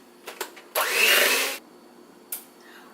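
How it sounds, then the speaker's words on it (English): An electric mixer whirring through eggs and sugar for a Snickers cake, a loud steady burst of under a second alongside a few knocks and a short later buzz. "Take a mixer and mix."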